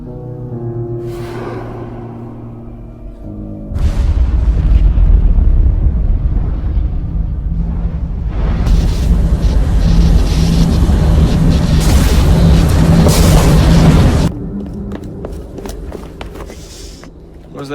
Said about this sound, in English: Piece of Eden detonated and took the lab with it.